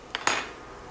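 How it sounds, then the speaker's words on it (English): A lid is set onto a one-pot pan of spaghetti and ground beef, two quick metallic clanks close together, the second louder with a short ringing tail, close and alone. "I'm going to put the lid on"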